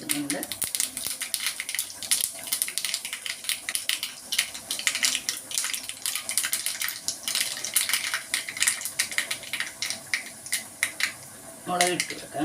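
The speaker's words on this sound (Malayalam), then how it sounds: "കടുക് പൊട്ടി വരുന്നുണ്ട്" Mustard seeds crackling and popping in hot oil in a pan, a busy run of sharp irregular pops and sizzle throughout, with a brief voice near the end.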